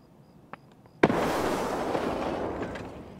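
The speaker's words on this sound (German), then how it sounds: "der schmeißt jetzt wahrscheinlich in jedes Fenster eine Granate" Grenade explosions in Escape From Tarkov. A couple of faint pops come first, then one loud nearby blast rolls into a long rumbling, crackling tail of debris.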